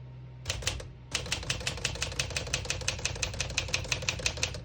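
A 1956 Smith-Corona Silent-Super portable typewriter being typed on: after a brief pause, a quick, steady run of crisp keystrikes clacks along in an even rhythm, close and clear.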